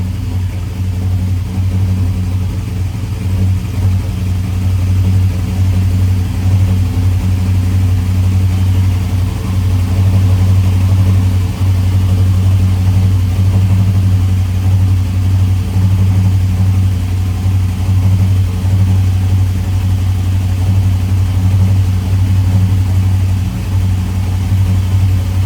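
A 1985 Chevy C10 with aftermarket fuel injection idles steadily while warming up after its first start, a loud, close, unbroken low engine rumble lasting the whole stretch with no talking.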